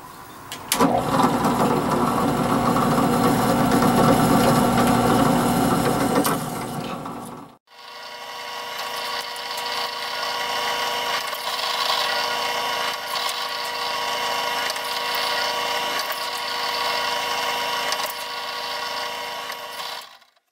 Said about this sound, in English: Okay, I'm ready to drill the holes